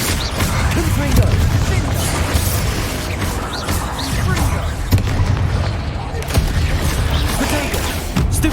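Confringo fire-blast spells exploding repeatedly in Hogwarts Legacy, a dense, loud barrage of crackling bursts and thuds throughout, mixed with continuous game noise and occasional speech.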